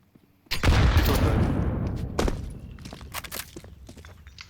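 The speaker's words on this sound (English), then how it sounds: "Throwing fire. Throwing grenade." Grenades blast one after another in a shooter video game: a sudden loud boom with a long rumbling decay, then a second sharp burst and scattered crackling debris.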